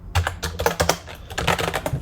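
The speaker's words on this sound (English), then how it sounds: "let me write another function" Code being typed on a computer keyboard, a quick run of close, crisp key clicks with a few short pauses, heard on its own with no speech.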